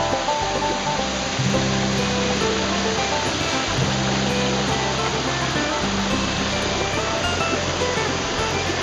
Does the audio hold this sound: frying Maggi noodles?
no